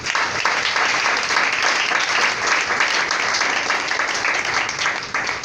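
A church congregation applauds continuously, a dense, loud wash of many hands clapping that holds steady and fades slightly at the end.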